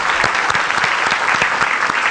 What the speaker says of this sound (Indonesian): Tepuk tangan sekali lagi untuk Underdog Kick-Ass.